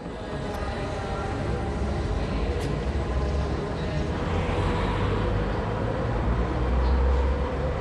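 Interior ride aboard the Transrapid maglev train in Munich, heading from the main station into a tunnel toward Hackerbrücke: a steady, loud broadband rumble and rush fills the whole clip with no break.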